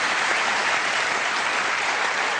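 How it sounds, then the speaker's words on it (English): A live studio audience at the Sydney Opera House applauds during the Q&A television program, a brief, dense wash of clapping that stays loud and even, with no talk over it. "And listening to the applause as well."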